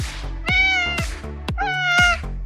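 A male cat meows repeatedly at a closed door, several long, clear meows in a row, fairly loud and close.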